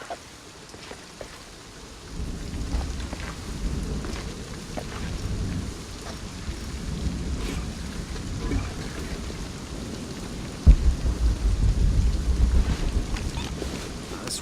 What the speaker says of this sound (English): This storm is coming in quick.